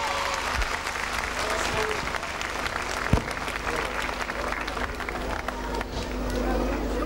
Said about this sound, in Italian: Un grosso applauso a queste due ragazze.